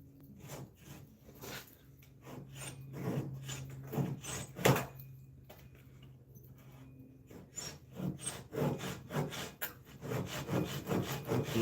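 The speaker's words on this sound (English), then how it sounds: "for cutting through the grain with walnut" A hand saw works through walnut across the grain, making rhythmic rasping strokes that are close and moderately loud, with a sharper knock near the middle and quicker strokes toward the end.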